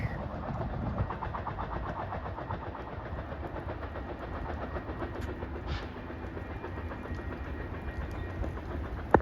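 Amtrak Downeaster passenger train passing southbound through Newton Junction, New Hampshire, a steady loud rumble of wheels on rail with rhythmic clickety-clack throughout, close by, no talk.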